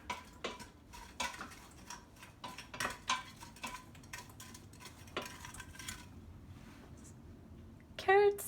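Frozen carrots and celery tossed into a pot for Buffalo mac 'n cheese, heard as a run of scattered clatters and knocks against the pot, fairly quiet, with a louder clank near the end.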